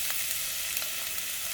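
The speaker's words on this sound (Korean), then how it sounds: "마늘이 노릇노릇해질 때까지 마늘이 이렇게 볶아주면" Minced garlic, about two spoonfuls, frying in a generous amount of oil in a pan, giving a steady close sizzle with faint crackles, no voices.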